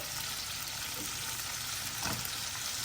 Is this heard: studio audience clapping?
no